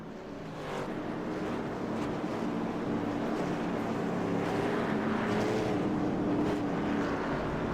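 Race cars circle the track behind the pace car, a dense, steady roar of several engines at moderate pace, rising slightly in loudness and holding throughout with no talk.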